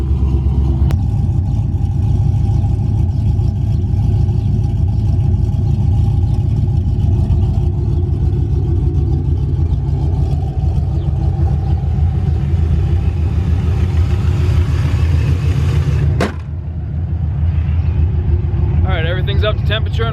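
A supercharged street truck engine idles with a steady, deep, loud rumble close by, and a voice talks over it.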